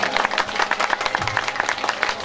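Audience applause at a religious Bhagavata Purana discourse, a steady patter of many hands clapping throughout at moderate loudness.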